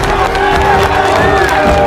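Polish spectators at a strongman competition roar in a dense, sustained crowd noise of shouts and cheers, loud and steady throughout with no clear pauses.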